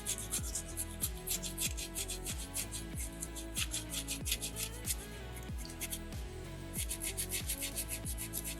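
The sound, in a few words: sanding soapstone bear carving with sandpaper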